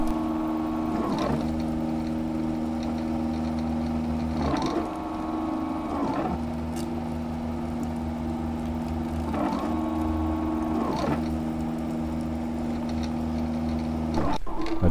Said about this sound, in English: I'm sure you're keen to see some printing.